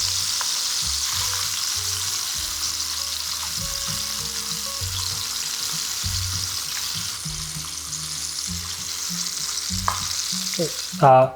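Buffalo chicken wings deep frying in hot oil, a loud continuous bubbling sizzle with some rhythmic low thumps underneath and a brief clatter near the end, no talking.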